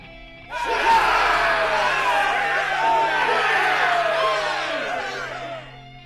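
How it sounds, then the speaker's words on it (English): A large crowd in the video game 428 Shibuya Scramble lets out a loud, sustained rousing cheer that starts abruptly and holds for about five seconds before cutting off. "Susumu's people let out a hearty cheer."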